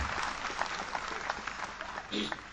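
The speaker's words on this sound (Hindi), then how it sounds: "आपकी तालियां बज रही हैं" Audience applause at a voter awareness gathering, a faint, dense patter of clapping from a large crowd heard at a distance throughout.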